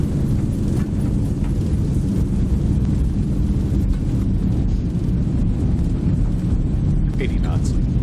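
Thrust reversers of a Boeing 737-800 roar during landing in a flight simulator game, a steady, loud, broad rumble that holds for several seconds with no talk over it.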